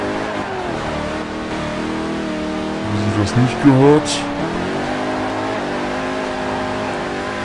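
A drifting car engine in a racing game revs and whines steadily while someone talks over it in German, with a brief louder squeal midway.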